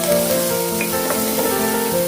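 Tomatoes hitting a hot pan while cooking a tandoori roasted chana dum pulao, giving a steady close sizzle and frying hiss that runs through the whole short moment with no talking.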